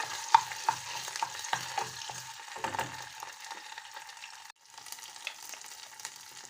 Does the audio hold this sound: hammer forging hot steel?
no